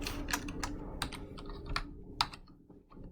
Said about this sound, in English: So let's go ahead and type the answer